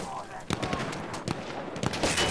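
Sniper rifle shots in Battlefield 1 crack repeatedly amid a busy battlefield, several sharp reports spaced irregularly over steady background combat noise.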